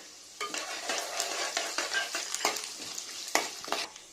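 Chana dal, urad dal, mustard seeds and cumin fry in oil while being stirred, giving a continuous near sizzle with sharp crackling spikes and pops.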